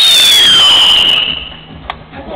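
A firework whistles upward with a loud descending shriek, then fades, followed by a faint crackling pop, close and sharp.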